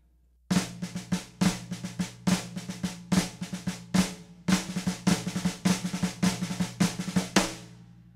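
A snare drum plays the bludgeon rudiment, a flam accent with a diddled stroke, as crisp close strokes with a flam grace note and a quick double bounce in a steady repeating pattern, alone.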